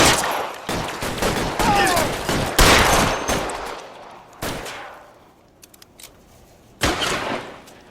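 Gunfire in the L.A. Noire video game, rapid bursts of loud shots in a thick volley that thins into scattered single cracks before a final blast.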